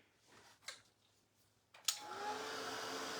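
After a couple of clicks and thumps, a hair dryer switches on and runs with a steady rushing whir, close by, drying paint on a painted Santa hat door hanger.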